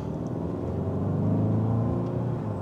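A 2024 Hyundai Santa Fe Limited accelerates in normal mode from about 20 mph, giving a steady low engine and road rumble with a gently rising drone heard from inside the cabin, with no talking.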